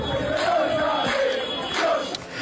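A large crowd of Palermo football fans chants together in a loud, sustained roar, voices rising and falling in rhythm.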